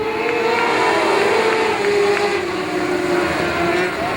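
Mini sprint race cars with 600cc motorcycle engines scream around a dirt oval at GT Raceway Park in Beaumont, Texas, a continuous loud high-revving drone with shifting pitch as the pack runs laps.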